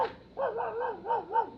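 A dog barks as a radio drama sound effect in an old mystery play, five quick yapping barks in a rapid, slightly whining run, close and clear with no voices over them.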